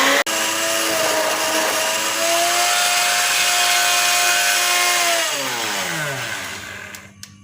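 A loud electric blender whirs steadily while mixing mango lassi ingredients of mango, yogurt and sugar, then its motor pitch drops as it winds down and stops, with no talking.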